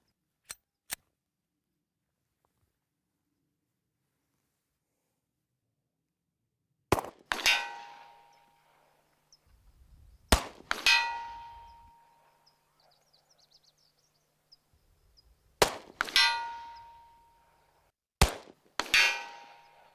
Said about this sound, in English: Just a few shots, and I made good hits on target with a 10mm.